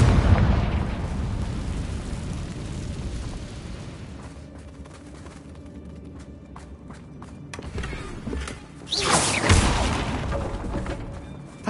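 The Confringo spell in Hogwarts Legacy goes off with a loud explosive burst near the end, after a stretch of rumbling combat ambience and movement.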